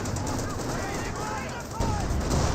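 A rifle squad comes under attack in the strategy video game Company of Heroes 2, with dense, continuous gunfire and battle noise rattling on without a break.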